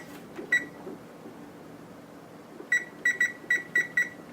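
A kitchen timer beeps while fried rice cooks: one short electronic beep, then after a pause a run of six quick beeps, close and clear over faint room noise.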